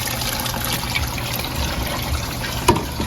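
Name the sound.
water dripping and overflowing in a crab holding box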